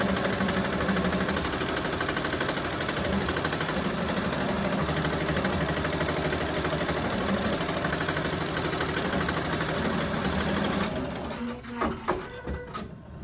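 A home embroidery machine stitches down appliqué fabric with a rapid, loud, droning rattle that runs unbroken for about eleven seconds. It then halts into a few irregular clunks and clicks.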